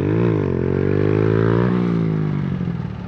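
A motorcycle engine revs hard during a wheelie attempt, a loud, steady close-up drone whose pitch climbs and then sags before settling again.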